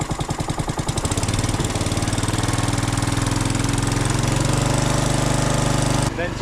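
A Honda HRX217HYA lawn mower engine catches with a few sputters, then settles into a steady, loud, close-up running drone before cutting off near the end.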